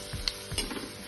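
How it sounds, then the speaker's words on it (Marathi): Bitter gourd (karela) frying with spices in a pan, a steady close sizzle with brief stirring scrapes, no voices. "चांगलं फ्राय करायचं."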